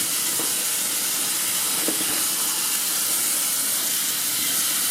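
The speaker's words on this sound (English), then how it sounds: "So now, I got to rinse off my screen, because it has soap" A water hose sprays a steady, loud hiss across a soapy outdoor projection screen, rinsing it continuously with no pauses.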